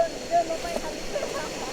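A mountain waterfall on a jungle hillside gives a steady, distant broadband rush of falling water, soft and continuous, with faint voices in the background.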